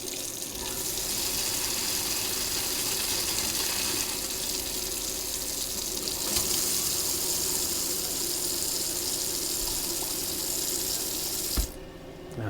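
Water running through the taps and pipes of a motorhome while its fresh water tank is flushed and refilled, a loud continuous rushing flow that stops abruptly near the end with a clunk.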